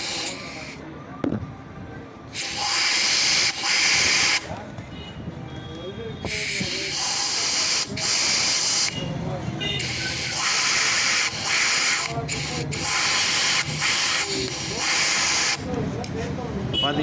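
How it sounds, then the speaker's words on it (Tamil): Compressed air blasted through a part from a seized Honda Unicorn motorcycle engine, loud hissing bursts of several seconds each, repeated with short pauses between them, with someone talking in the gaps. "கண்டிப்பாக இங்கேருந்து ஊதணும்."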